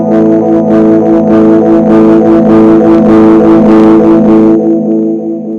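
Xvive Echoman Mini analog delay pedal with feedback turned up, a held guitar tone swelling into loud, dense self-oscillating repeats that build and then fade away, with no talking.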